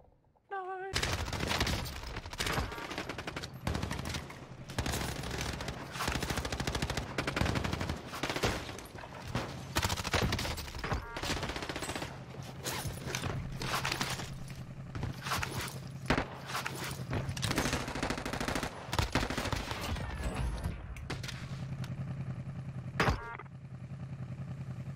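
Sustained gunfire in the video game Warzone, with rapid, dense bursts of shots running nearly nonstop at close range for the whole stretch, and a voice talking at times underneath.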